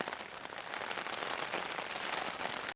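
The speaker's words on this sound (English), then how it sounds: "here comes a bunch more rain" Steady rain falls on Kodiak Island during a fly-in bear hunt, a dense, even hiss with no breaks and no voices.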